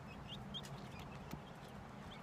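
Chickens clucking nearby in a backyard flock, soft scattered calls over a steady low rumble, with no talk.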